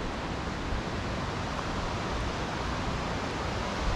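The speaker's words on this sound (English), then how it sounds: "we are coming up on our first waterfall feature" Waterfall on a hiking trail, a loud, steady broadband rush of falling water heard close by, unbroken and with no voices.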